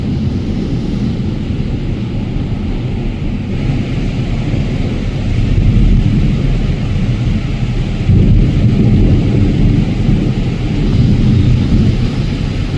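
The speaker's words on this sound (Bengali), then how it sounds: "সেই বিশাল আওয়াজ করে করে এই বাজ পড়ছে" Loud thunder rolls and rumbles through a heavy rainstorm at night, deep sustained booming swelling in waves over steady rain, with no voices.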